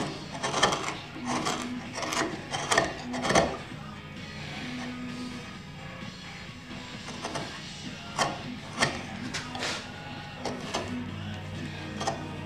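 A sharp hand plane or blade shaving thin curls off wood for bookends, in rhythmic rasping strokes, close up, with quieter pauses between passes.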